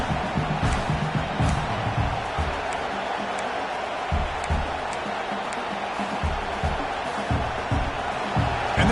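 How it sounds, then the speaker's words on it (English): A stadium crowd in a college football video game, Baylor against Michigan, keeps up a steady, loud roar with rhythmic swells and bursts of cheering, as if urging the defense on. "And this crowd coming to life here, trying to help the defense get a stop"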